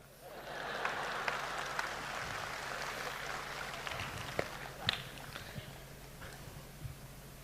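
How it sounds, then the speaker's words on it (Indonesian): An audience at a talk by former minister Ignatius Jonan at a Catholic gathering in Indonesia claps together, a soft, steady wash of applause lasting several seconds, heard from some distance. "saya minta tepuk tangan khusus untuk Romo Yos"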